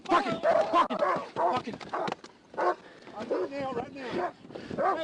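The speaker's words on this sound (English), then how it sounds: "Quit fighting my dog!" Dogs bark, yelp and snarl in a fight beside a car during a state trooper encounter, loud and close, mixed with someone shouting over them.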